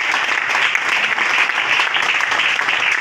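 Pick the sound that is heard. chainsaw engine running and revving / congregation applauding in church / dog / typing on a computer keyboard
congregation applauding in church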